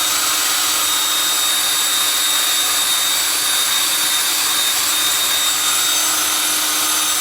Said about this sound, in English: So I've got my electric drill and my spade bit.